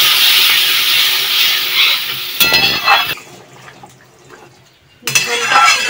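Tomato and turmeric curry base bubbling and hissing in a pan, a steady loud simmer that cuts off abruptly, leaves a quiet gap, then resumes.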